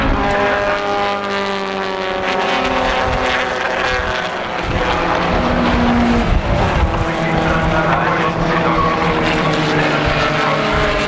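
Reg Cook Shell Sport racing car at full speed on the Ruapuna circuit during a 1996 classic race meeting: a loud, close, sustained engine howl that rises and falls in pitch through gear changes, with no voices.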